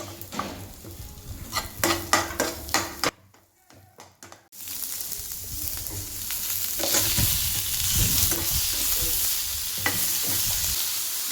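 Ingredients fry and get stirred in a kadai for a paneer butter masala base, with a steady close sizzle and scraping stirs broken by a short quiet pause early on.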